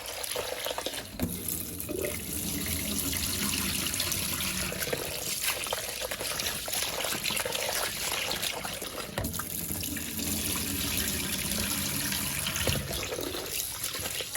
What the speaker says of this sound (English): I'm going to show you how I wash my rice